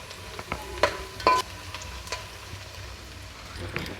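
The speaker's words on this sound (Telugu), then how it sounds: "ఇలా ఉల్లిపాయ ముక్కల్ని ఫ్రై చేసుకోవాలి." Onion pieces fry quietly in a pan for a Telugu-style biryani, a soft continuous sizzle broken by a few sharp utensil clicks and stirring taps, with no talking.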